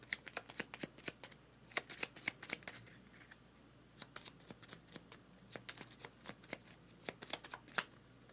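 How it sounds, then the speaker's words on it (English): A deck of cards is riffle-shuffled and cut during a Ground Floor Second Edition board game session, giving bursts of crisp rapid flutters with short pauses between, fairly quiet and close, with no talking. "so shuffled and cut"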